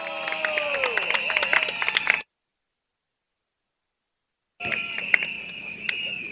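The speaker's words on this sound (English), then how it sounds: "let's give you a round of applause to Miss Peggy Chua" An election rally crowd in Tampines applauds for Miss Peggy Chua, bursts of clapping with a sustained ringing tone above, cut by a sudden silent gap before resuming.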